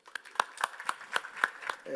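At a health technology innovation forum, scattered applause greets the president of the Portuguese Association of Hospital Administrators, with about eight distinct claps spaced evenly over a quiet room.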